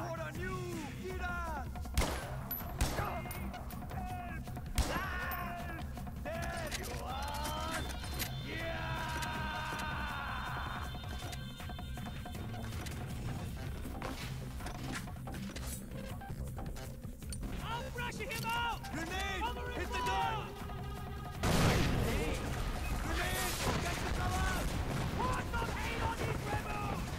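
Gunfire in Far Cry 4 on a custom Goldeneye Caverns map, with scattered shots and thuds over a busy game mix, a louder burst late on, and players talking throughout.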